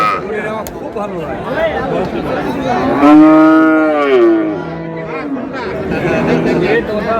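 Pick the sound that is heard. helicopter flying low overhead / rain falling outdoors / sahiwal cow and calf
sahiwal cow and calf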